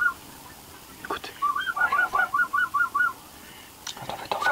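Wild birds call overhead above the Baie d'Authie coastal bay, a flock giving a run of about a dozen evenly spaced, honking whistles in the middle, fairly clear over a faint outdoor background.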